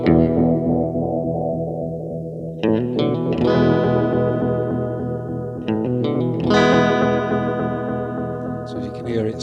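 Guitar played through a Choral Vibes chorus pedal with its tone control being adjusted: strummed chords with shimmering modulation and echoing repeats, several bursts of playing, fairly loud and without talk.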